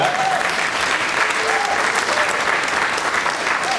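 Audience at a museum park groundbreaking ceremony clapping steadily and warmly, a dense even wash of applause that holds at the same level throughout with no voices standing out.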